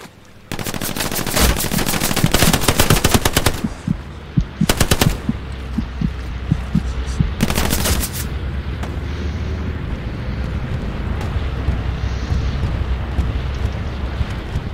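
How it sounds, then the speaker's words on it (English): Machine gun fire in the Hell Let Loose war game: loud rapid automatic bursts in several clusters, scattered single shots, then a lower rumbling battlefield din with distant firing. "I didn't see the guy who was shooting at me."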